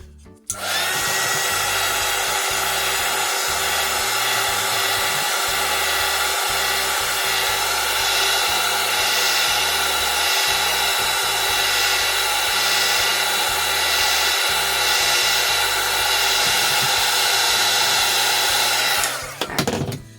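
A hair dryer runs steadily and loudly on a craft bat decoration, a continuous close whoosh with a slight fluttering motor tone lasting nearly twenty seconds before it switches off.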